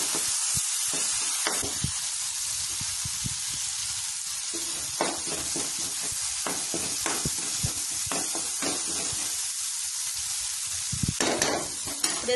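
Sesame paste frying with onions in a pan, with a steady close sizzle and repeated stirring scrapes throughout and no voices.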